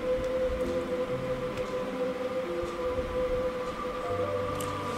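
A running train serves as a sound effect in a Bengali audio drama, heard as a steady, continuous rumble with a sustained droning tone throughout and no break.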